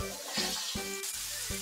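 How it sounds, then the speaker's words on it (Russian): Onions and potatoes fry in vegetable oil in a pan, giving a close, steady crackling sizzle broken by a few sharp clacks like a spatula striking the pan. "Жарим почти до готовности."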